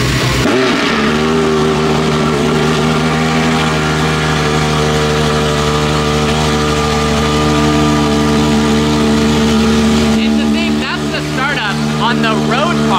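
Gordon Murray T50 supercar engine started up and revving, a loud, steady, multi-toned engine drone held close throughout, with a brief shift near the end and people talking over it.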